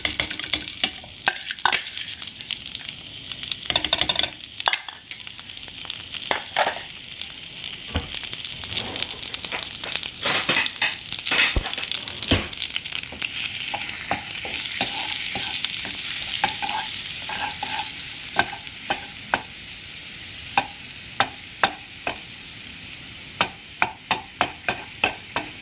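Chopped garlic fries in a hot pan with a steady sizzle while a utensil stirs and scrapes it, giving sharp, irregular clicks and taps over the frying noise.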